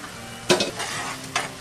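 Hot sugar syrup poured into a laddoo mixture and stirred in a bowl, with a faint sizzle bed and a few close, distinct stirring scrapes and pours, no talking.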